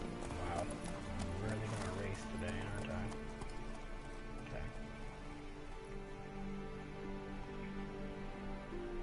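Horses galloping with steady clip-clop hoofbeats in a horse race in the Witcher 3 video game, with occasional whinnies and a rain-like patter, running continuously under people talking.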